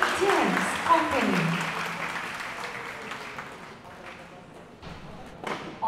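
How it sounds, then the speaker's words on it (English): An audience at a university festival opening applauds the campus dance company, steady clapping fading gradually beneath a voice speaking over a sound system. "Give a round of applause to the UC Dance Company."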